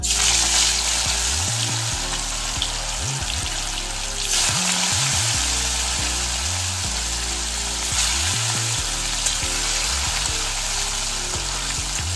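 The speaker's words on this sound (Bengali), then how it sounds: "তেলটা গরম হয়ে গেছে, এখন মাছগুলো ভেজে নেব।" Fish frying in hot oil in a pan for a Bengali fish curry: a steady, loud, dense sizzle and crackle throughout, close to the pan, with no voices.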